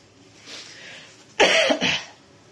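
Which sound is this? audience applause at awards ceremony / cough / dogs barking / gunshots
cough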